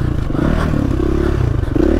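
Husqvarna FE350 four-stroke dirt bike being ridden, its engine droning steadily and loudly throughout with a heavy, low pulse and some clatter.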